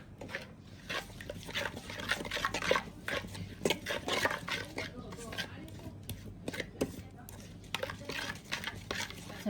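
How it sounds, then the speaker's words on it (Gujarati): A spoon stirs a fish masala mixture in a pot, giving repeated wet scraping and clinking strokes at close range, with background voices and a low hum underneath. "આવી રીતે બધું આપણે હલાવી નાખ્યું છે"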